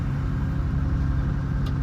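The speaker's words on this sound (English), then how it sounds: "This engine sounds very good." A 1968 Pontiac Firebird Sprint's rare OHC-6 engine idling, a steady deep low rumble with an even, unbroken drone and no voices.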